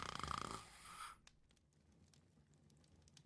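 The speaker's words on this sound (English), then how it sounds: "Damn. Already snoring?" Single rasping snore from a game character in The Hungry Lamb, brief and buzzy, cutting off after about a second into quiet background ambience.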